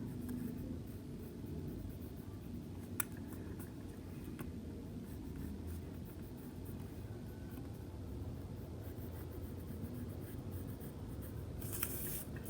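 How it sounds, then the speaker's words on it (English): A pencil traces a heart outline lightly on paper for a craft box, giving faint, soft scratchy strokes over a steady low background rumble, with no voices. "I'm going to lightly trace it"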